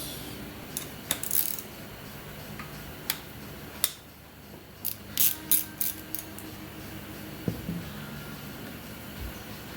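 A ratchet with a 10mm socket works bolts on a 2008 Honda 400EX engine, giving quiet, close clicking bursts at irregular intervals over a low background hum.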